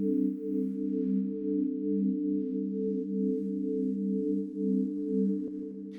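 Synth chords drawn into Logic play as soft, sustained sustained tones, a low steady pad swelling gently in volume and holding for several seconds before a brief click near the end, with no voices.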